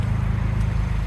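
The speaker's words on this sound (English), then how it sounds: "it's going to get a little blip on the throttle." A Ford Ranger Raptor with a twin-turbo V6 gives a close, loud, deep engine rumble that holds steady through the short moment, with no voices.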